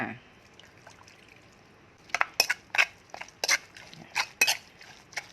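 Grilled mackerel chili paste being mashed and mixed with added boiled water, a run of wet crunchy thuds and scrapes from about the two-second mark, close and moderately loud after a quiet start.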